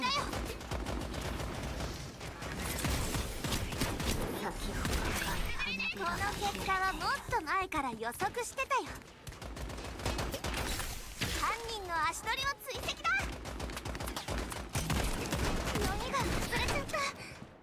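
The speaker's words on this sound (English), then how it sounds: "the shotgun works well." Shotgun blasts in a video game match, heard as repeated sharp bursts and rapid gunfire over dense game noise and music, with a voice talking throughout.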